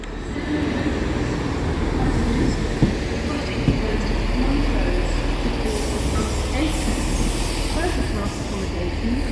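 A train rumbles steadily along the tracks with a continuous low roar, occasional clanks and a brief squeal, no talking heard.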